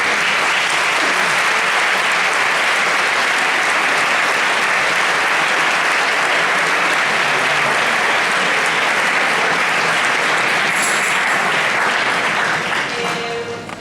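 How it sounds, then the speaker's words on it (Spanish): Loud, sustained applause from a concert audience at a Christmas concert by a conservatory orchestra, steady and dense for about twelve seconds before thinning slightly at the very end. "Yo creo que podemos aplaudir a todas las familias."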